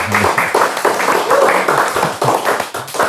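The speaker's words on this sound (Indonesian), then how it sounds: "Boleh tepuk tangan dulu dong untuk Stella." An audience in a studio claps for a guest, a dense, steady patter of many hands filling the space up close, with a voice briefly cutting through the applause.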